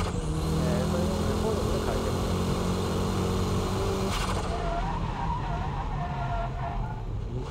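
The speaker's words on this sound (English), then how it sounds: "Braking drift is controlled by the braking power, your braking touch." A car skids through a braking drift on a wet track, a continuous loud rush of engine and tire noise holding steady throughout, with a sharp burst partway through; no speech.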